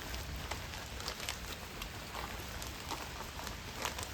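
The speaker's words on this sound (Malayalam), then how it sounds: "നമ്മളിങ്ങ് ഇട്ടിട്ട് നല്ല മഴയാണ്" Heavy rain pouring steadily during windy stormy weather, a dense, even hiss of falling drops that holds constant and fairly faint throughout with no voices.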